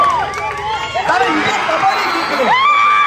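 A crowd at a kabaddi semifinal cheers loudly and close by, with rising whoops, whistle-like shouts and excited voices. The cheering swells and dips in waves through the whole stretch.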